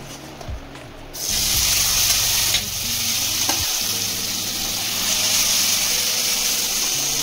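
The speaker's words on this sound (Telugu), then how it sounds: "మనం ముందుగా మ్యారినేట్ చేసుకుని 2 అవర్స్ నానబెట్టిన చికెన్ని ఇందులో వేసేద్దాం" Marinated chicken dropped into hot oil with cinnamon and cloves for dum biryani, a sudden loud sizzle that keeps hissing steadily, with a few clunks of the pan and spoon nearby.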